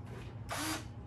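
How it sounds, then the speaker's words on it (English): Power drill boring holes in new Storm Proton Physix and 900 Global Zen bowling balls, a short burst of whining, grinding drilling that starts abruptly midway and stops after about a third of a second, with no talk. "let's drill some balls."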